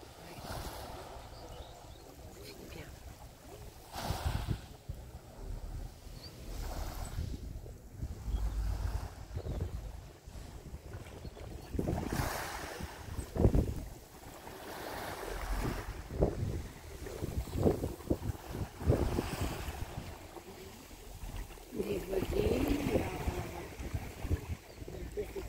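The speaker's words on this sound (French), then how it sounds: "Moi, j'aime bien prendre le bruit de la mer." Sea waves wash and break along the shore in slow surges under steady wind buffeting, with a few faint voices in the background.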